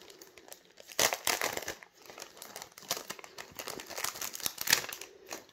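A small stamped card pulled from its crinkly plastic packaging, close-up rustling and crackling in irregular bursts with a few sharper crunches, no talking.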